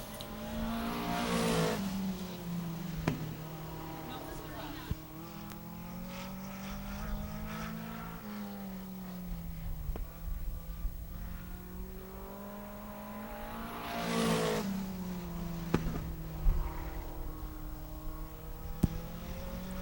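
A race car on the track is heard from the stands, its engine rising and falling as it laps and passes by, with two louder swells as it comes near and long stretches of steady distant roar.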